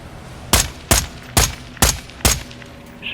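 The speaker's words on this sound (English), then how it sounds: "Listen to how realistic these guns sound." Five sharp, loud gunshots in Call of Duty: Modern Warfare 2 ring out at an even, deliberate pace, each with a short echoing tail. No voices are heard.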